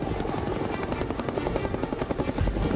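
A military helicopter airlifting a 105 millimeter howitzer gives a steady, loud rotor thrum with rapid blade chop. It holds constant across the whole clip with no voices.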